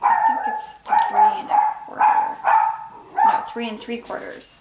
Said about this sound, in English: Sorry about the dog, seriously.